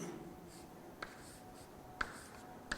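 A pen writes out a stiffness matrix on paper in a quiet room, giving three sharp, sparse taps with faint scratching between them, close and soft.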